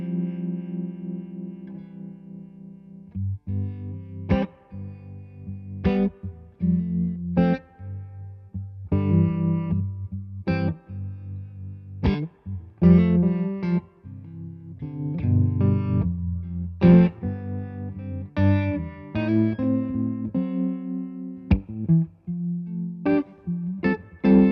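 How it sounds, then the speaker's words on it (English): Electric guitar played through a pedal giving a subtle harmonic tremolo, plucked notes and chords with gently pulsing, wavering sustain, alone without talk. "It does a very nice and subtle harmonic trem."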